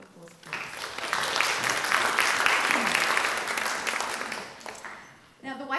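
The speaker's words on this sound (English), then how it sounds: "Can we give them a round of applause, please?" Symposium audience breaks into applause, building from sparse claps to a full steady round, then tapering off before a speaker's voice returns.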